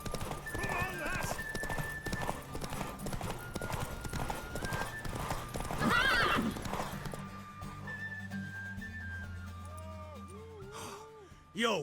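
Hooves clip-clop steadily as a horse gallops in The Witcher 3, with a neigh and snorting breaths, fairly close, while a voice talks over it and the hoofbeats fade to quieter sounds near the end.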